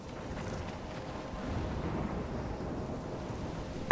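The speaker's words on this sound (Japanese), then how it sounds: "すごい嵐。" Storm with thunder in Life is Strange, a steady low rumbling roar of wind and distant thunder, moderately faint and continuous throughout with no talk.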